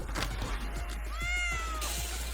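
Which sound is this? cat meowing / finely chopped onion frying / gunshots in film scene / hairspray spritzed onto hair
cat meowing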